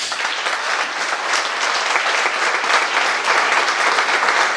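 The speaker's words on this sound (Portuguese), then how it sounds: "Aqui eu peço uma salva de palmas." An audience at a public hearing breaks into sustained applause, a dense, even wash of clapping from many hands, loud and close throughout, with no voices standing out.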